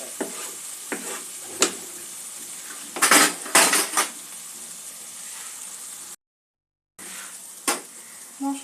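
Spice masala for a katla fish rezala fries in a pan with a soft sizzle, broken by several sharp metal scrapes and clinks of a spoon stirring against the pan, close and fairly loud.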